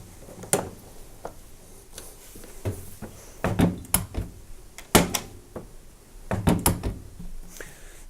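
A series of close clicks, knocks and thunks as a Miele tumble dryer door and hinge are refitted, ending with firmer snapping closes, irregular in rhythm.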